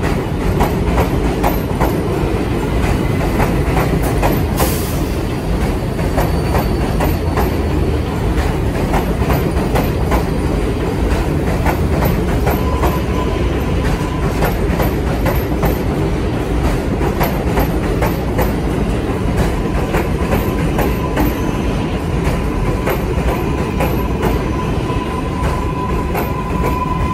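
New York City subway trains on the 7 and N lines at Queensboro Plaza station roar past close by, a loud, steady rumble with dense rail clatter and bursts of wheel noise running the whole time, with no voices.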